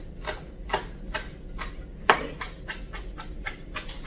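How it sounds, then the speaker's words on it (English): A knife chops fresh parsley on a cutting board for a shrimp scampi garnish, giving a run of close, fairly even taps at a quick rhythm. Around the middle one blow lands sharper and louder than the rest. "I'm going to chop fresh parsley for my garnish later."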